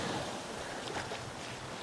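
Ocean waves wash onto a rocky beach in a continuous, broad surf roar, steady and fairly close, with some wind buffeting the microphone.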